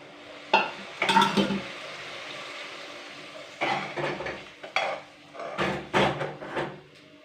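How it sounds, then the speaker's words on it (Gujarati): Tomato and spice masala with brinjal frying in a pan over a medium gas flame, heard as a steady soft sizzle broken by uneven bursts of spoon scraping and stirring, close by with no voices. "ગેસ આપણે મીડિયમ રાખ્યું ને તો મસાલો તળે"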